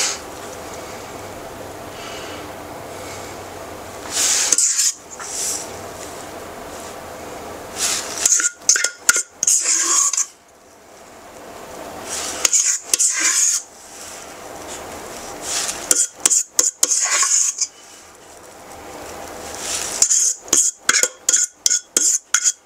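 Zucchini muffin batter spooned into a metal muffin tin, with bursts of scraping and quick clinking taps of the spoon against the tin, separated by brief pauses and no talking.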